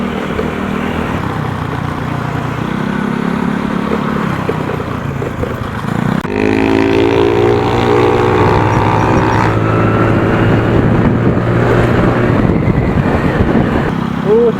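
Off-road motorcycle riding around Santa Maria, Bulacan, on a bike with worn-out shocks, a continuous engine drone that rises with revving gear changes partway through, loud and close with wind rumble.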